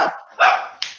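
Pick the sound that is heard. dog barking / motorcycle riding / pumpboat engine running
dog barking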